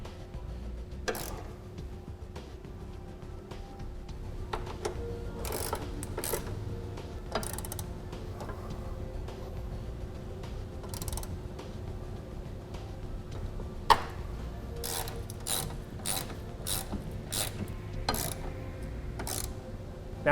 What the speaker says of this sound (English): we can come back and tighten everything down.